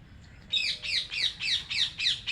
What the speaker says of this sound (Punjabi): ਆ ਖੇਤ ਉੱਤੇ ਤੋਤੇ ਬੋਲਦੇ ਆ ਜੀ ਸੋਹਣੇ ਲੱਗਦੇ ਆ ਨਾ